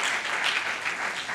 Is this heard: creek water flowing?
no